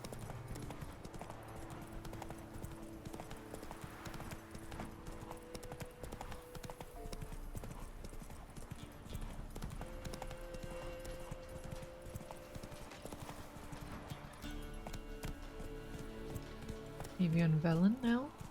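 Hooves of Roach, Geralt's horse in The Witcher 3, trot in a steady clip-clop rhythm over game music and ambience, with a brief whinny-like sound near the end; a voice talks over parts of it.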